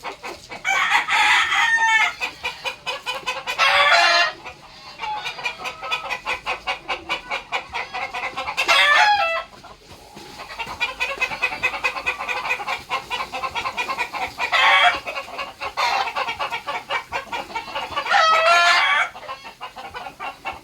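Chickens cluck continuously and close by while a rooster crows loudly several times at intervals, with no talk.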